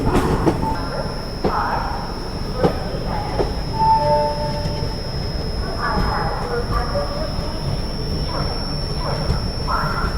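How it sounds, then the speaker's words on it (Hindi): Goa Express passenger train arriving at an Indian station, a continuous rumbling roll of wheels and carriages with occasional metallic squeals and clanks, close and fairly loud, with faint voices and station bustle underneath. "और यहाँ पे हमारी ट्रेन का अराइवल तो हो ही रहा है"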